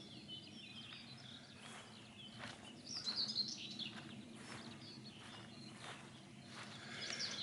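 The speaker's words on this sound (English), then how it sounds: "Those little birds." Small birds chirp outdoors in short, repeated tweets scattered across the whole stretch, fairly faint and distant over a quiet background, with a brief louder burst of calls in the middle and another near the end.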